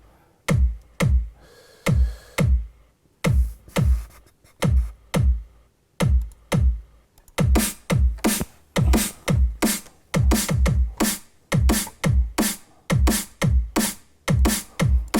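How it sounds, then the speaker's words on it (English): Layered kick and snare drum samples for drum and bass, sounding as a steady, punchy beat of sharp alternating hits that is loud and dry, with no voices throughout. "These are the main kick and snare, which will sound like this."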